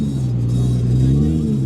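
A Nissan GT-R idling and revving at a car meet, a loud, steady low engine drone with a slight rise in pitch, close by and without talk.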